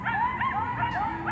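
Wavering canine-like howls from a recorded field clip, several overlapping rising and falling cries close and fairly loud over a low background rumble, with no talk.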